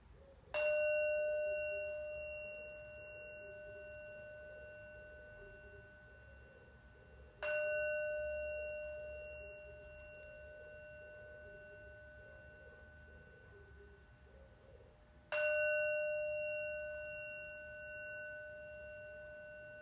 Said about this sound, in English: our dedication on the 3 sounds of the bell